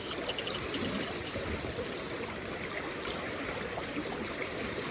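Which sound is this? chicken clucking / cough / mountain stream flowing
mountain stream flowing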